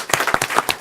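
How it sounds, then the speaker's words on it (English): A few sharp claps from an audience at a board meeting, quick and uneven, close and brief. "we should all give a round of applause to"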